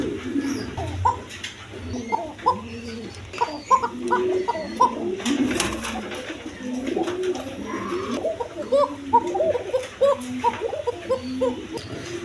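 A flock of pigeons, birds offered for sale in pairs with chicks, coos continuously, with many soft, overlapping throaty calls close by and steady throughout.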